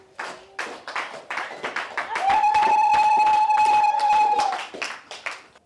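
A church congregation claps together in praise, a dense burst of applause swelling from scattered claps into a sustained wash, with a held tone riding through the middle and voices mixed in.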